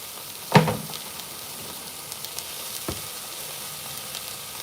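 Five steaks cook on a grill with a soft, continuous sizzle, broken by a sharp clatter early on and a fainter knock later. No voices are heard.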